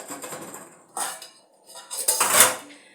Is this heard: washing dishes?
yes